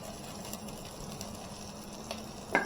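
Onions and tomatoes fry together in a pan for semiya upma, giving a faint, steady sizzle with a sharp utensil clink near the end.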